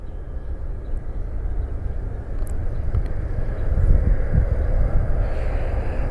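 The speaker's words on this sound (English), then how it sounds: "All right, we got another heavy jet inbound. It's FedEx Flight 356. It's a 767 freighter inbound from Memphis." A FedEx Boeing 767 freighter arrives at Cleveland Hopkins International Airport, a broad low jet roar that swells gradually over several seconds, steady rumble with some wind buffeting, no talking.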